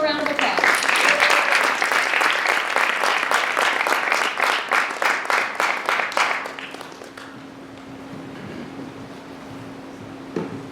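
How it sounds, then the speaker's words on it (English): An audience at a talk event bursts into sustained applause, steady and full for about six seconds, then fades out, leaving a low hum of room noise. "Let's give them a round of applause."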